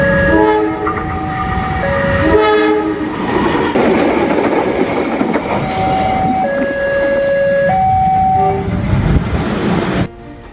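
Malabar passenger train at a railway level crossing, its horn blaring in several long tones over the steady roar and rumble of the passing cars, loud and close throughout.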